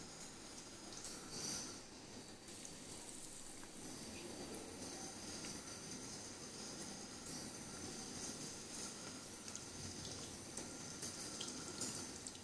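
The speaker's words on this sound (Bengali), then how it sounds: "এভাবে ছাঁকা তেলে একটা দুটো করে ভেজে নিচ্ছি।" Batter-coated pointed gourd pieces deep frying in hot oil, a faint, continuous hiss and crackle that holds steady throughout with no talking.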